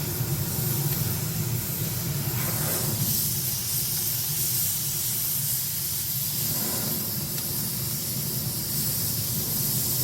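Air compressor blow nozzle blasting into a wood-fired smoker, a continuous loud hiss of rushing air with a faint crackling fire beneath, steady throughout.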